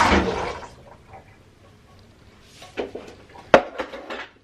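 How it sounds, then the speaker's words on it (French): A rush of liquid and canned chickpeas splashing into a metal colander, followed by a few clinks and rattles against the metal. "je vais tout mettre dans une passoire"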